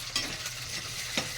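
Red chillies and curry leaves fry in hot oil for a tempering, a steady close sizzle with a couple of sharp stirring scrapes and no voices.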